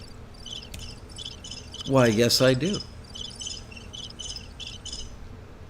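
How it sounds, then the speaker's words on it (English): Crickets from a royalty-free sound library chirp in steady, evenly spaced pulses throughout, moderately loud, while a voice briefly talks over them partway through. "Do I have one with crickets chirping?"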